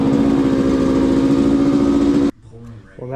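A Yamaha HS1 motorcycle engine, with freshly cleaned carburetors, runs loudly and steadily at idle, then cuts off abruptly, leaving near silence before faint noise returns.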